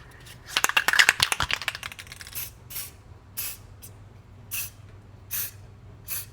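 Anti-seize spray is applied to brake parts during a brake pad swap on a Toyota Prius: a quick rattling flurry at first, then about six short, sharp hissing spray bursts at fairly even intervals.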